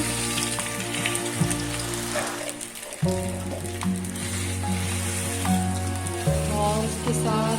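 Potatoes tipped into two tablespoons of hot oil for aloo paratha filling, a loud, dense sizzle like heavy rain that surges as they go in and keeps crackling steadily.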